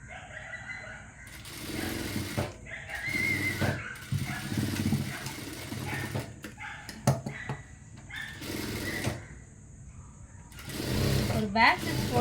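Sewing machine stitching and joining pieces of a girls' uniform coat in a tailoring session, running in repeated bursts with pauses between them, a voice talking over parts of it and a dog barking faintly in the background.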